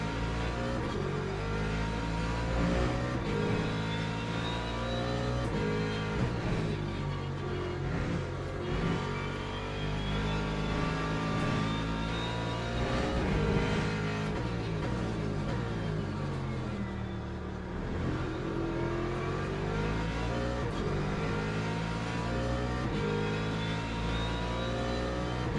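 A BMW race car engine in the sim racing game Le Mans Ultimate on the Bahrain circuit drones loudly and steadily, its rich harmonic whine rising and falling through gear changes and throttle shifts for the whole stretch.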